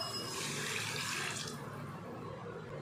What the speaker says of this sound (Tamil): தேவையான அளவுக்கு தண்ணி சேர்த்துறலாம்